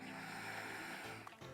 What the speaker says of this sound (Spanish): En esta tercera respiración vas a inhalar por la nariz